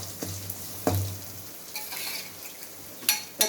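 Garlic sautéing in oil in a home kitchen, a steady soft sizzle with a low hum underneath and a few sharp clinks of a stirring spoon against the pan.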